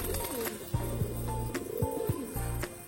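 Pigeons newly kept at a house, one perched up on a roof, give a steady run of repeated soft low coos, close and clear over a constant background hum.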